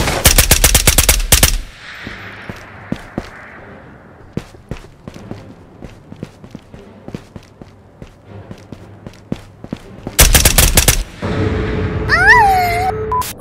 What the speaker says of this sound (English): I hear shots inside.